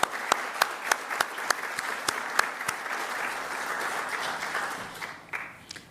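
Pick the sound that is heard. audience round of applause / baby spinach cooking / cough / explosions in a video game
audience round of applause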